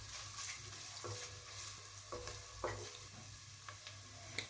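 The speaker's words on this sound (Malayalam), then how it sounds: "നല്ലോണം വഴറ്റുക." Crushed ginger and garlic sautéing in a hot pan for egg biryani, a steady close sizzle broken by repeated scraping stirs of a spoon against the pan.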